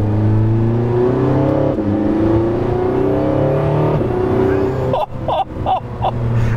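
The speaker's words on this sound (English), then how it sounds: "when I floor it, I can hear a little bit of that electric motor" Porsche 918 Spyder hybrid supercar under full-throttle acceleration, a loud sustained engine note rising steadily in pitch with a faint electric motor whine mixed in, then brief upshift breaks and fresh surges near the end.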